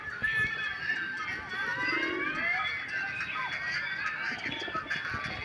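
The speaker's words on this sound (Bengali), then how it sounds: "তো বন্ধুরা দেখতেই পাচ্ছ এখানে সব পায়রা আছে" Pigeons coo softly in a loft, low rolling calls repeating near and far over a constant background of chirps and faint rustling.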